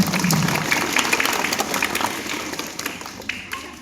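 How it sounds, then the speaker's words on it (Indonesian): A group of children claps their hands together. Brisk, fairly close claps form a busy patter that thins and grows more scattered toward the end. "Tepuk tangan buat anak soleh semua."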